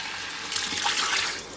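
Water pours in a steady, close rushing stream into a pot of browned mutton paya masala, about 1.5 to 2 litres going in before pressure cooking, with no talking.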